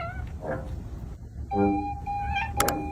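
A cat meows a few times in short, rising calls, near and moderately loud, with some background noise underneath.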